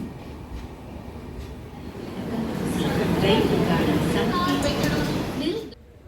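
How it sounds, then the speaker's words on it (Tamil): An express train rushes past close by on the adjacent track with a rising rumbling roar and rattling wheels, holding steady before cutting off abruptly near the end. "நம்ம ட்ராக்கு பக்கத்தில் இருக்கக்கூடிய இந்த ட்ரெயின்"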